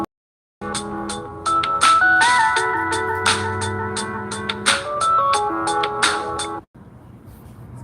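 Ringtone of a phone taking an incoming call from an unknown wireless caller, a loud melodic electronic tune of repeating chimes playing close by for several seconds, then stopping abruptly near the end.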